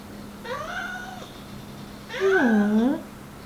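A kitten meows twice, a short plaintive call followed by a louder, longer drawn-out one, close by in a quiet room.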